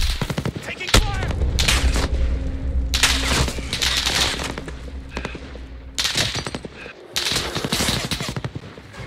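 Call of Duty Warzone gunfire erupts in loud, rapid automatic bursts, several volleys separated by brief pauses, close and sharp over low background rumble.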